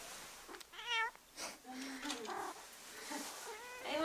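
A pet cat at home meows several times in a short, rising and falling series of cries, close by, with a person speaking faintly between the calls.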